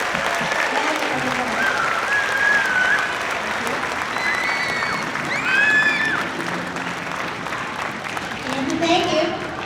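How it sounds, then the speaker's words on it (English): Loud, sustained applause from a concert audience at a 5th grade December concert, dense clapping filling the whole stretch with some cheering and whistles rising mid-way. "Let's have one more huge round of applause,"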